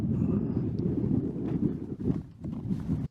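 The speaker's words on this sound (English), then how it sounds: "It's getting a little bit windy, but that shouldn't be an issue here." Strong wind blowing across a Swiss mountain summit during a free solo climb, a loud, continuous low roar buffeting the microphone with gusty surges that drops off abruptly at the end.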